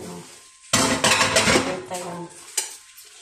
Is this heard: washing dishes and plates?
yes